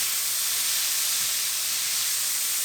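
Meat stir-frying in a pan for a lunchbox side dish, a loud continuous hiss and sizzle that stays even from start to finish with no talking.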